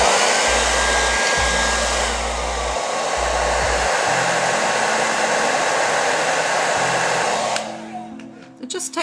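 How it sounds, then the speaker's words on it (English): A hair dryer blows steadily on a gouache and watercolor flower painting, a loud continuous whoosh that cuts off near the end, leaving faint room noise. "I used the blow dryer again."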